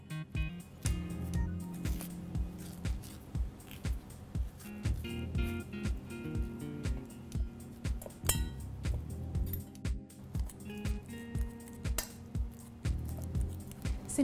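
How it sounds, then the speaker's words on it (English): A ripe banana is mashed in a bowl with a fork or masher while making flapjacks, giving a steady run of close, rhythmic clinks and soft squishy presses repeating about once a second, with no talking. "I'm going to mash some banana as well"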